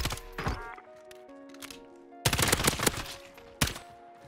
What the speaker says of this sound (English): These guys are just getting shot at.